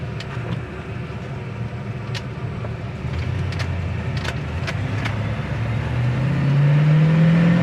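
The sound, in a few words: 1968 Chevrolet Impala automatic accelerating and shifting gears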